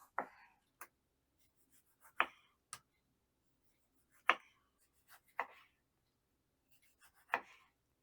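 Knife cutting an onion into large half-rings on a cutting board: about seven separate sharp chops at irregular intervals, close and clear, with quiet pauses between them and no talk.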